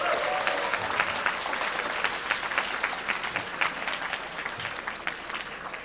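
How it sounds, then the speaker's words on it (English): Steady, loud applause from a large audience at the HackIllinois 2016 hackathon closing ceremony fills the whole stretch with dense clapping that slowly tapers a little toward the end. "a big round of applause to the sponsors for helping us make this event even possible"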